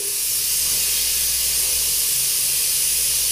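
Steady, continuous hiss of compressed air flowing from a Harbor Freight drywall texture spray gun, loud and unbroken throughout, with a faint low hum beneath.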